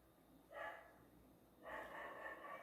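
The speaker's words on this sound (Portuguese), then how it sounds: "os cachorros resolveram começar a latir aqui" Dogs barking in the distance, two muffled bursts of barking separated by a short pause, faint and somewhat far off against a quiet room background.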